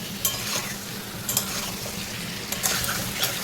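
Mutton and fried potatoes sear in a pan with a dense, continuous sizzle up close. A few soft scrapes of stirring surface now and then, and no voices are heard.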